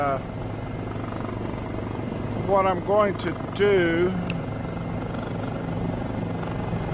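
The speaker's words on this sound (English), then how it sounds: "I'll be flying the helicopter back in" A helicopter in the X-Plane 11 flight simulator, flown in VR, gives a steady, even engine and rotor drone throughout, with someone talking briefly over it.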